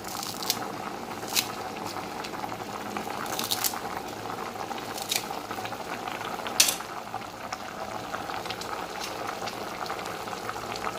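Water boils in a pot for pepper mutton soup, a soft continuous bubbling with occasional sharper pops and ticks, close and steady for the whole stretch.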